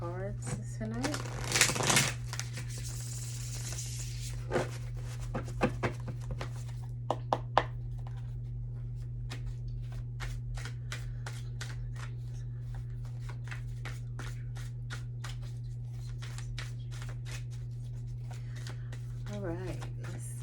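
Tarot cards shuffled by hand during a full moon reading, giving quick riffling and flicking bursts early on, then a long run of light crisp snaps over a steady low mains hum.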